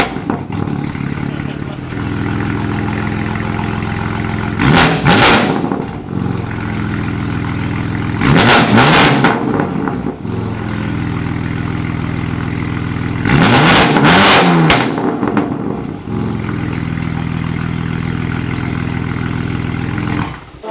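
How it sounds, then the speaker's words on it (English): BMW G80 M3 on a dyno, a loud engine holding a steady drone with three hard revving bursts that rise and fall, close and with no talk. "let's go ahead and get this car onto the dyno"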